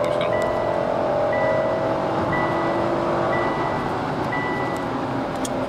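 A 2014 Kia Cadenza accelerates in second gear, its steady engine drone rising in pitch under a constant road and wind hum heard from inside the cabin, with a faint repeating electronic chime.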